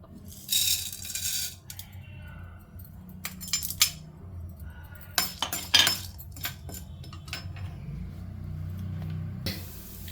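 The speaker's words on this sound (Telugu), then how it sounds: "సో ఇదండి మినపప్పు శనగపప్పు వేసేస్తున్నాను" Urad dal and chana dal lentils poured into a pan of oil for chennangi leaf spice powder, heard as a close run of small hard rattling bursts, grains scattering with a light clatter and faint sizzle underneath.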